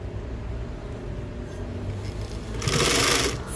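A sewing machine stitching fabric runs in a steady close mechanical whir, rising to a louder, faster burst near the end.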